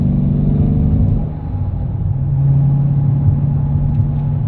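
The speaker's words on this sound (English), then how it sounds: "It's just got a great exhaust note in the cabin." A steady, deep engine drone fills the cabin, swelling slightly as the car accelerates, with a low rumbling exhaust tone throughout and no talking.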